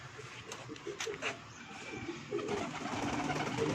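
Pigeons cooing on a rooftop loft belonging to a breeder, soft repeated coos close by amid faint background noise and a low murmur of activity.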